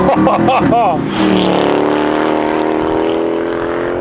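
A Mercedes W204 C63 AMG with its front-mounted V8 revs hard, a loud rising and falling engine snarl in the first second, then settles into a sustained, droning engine note nearby.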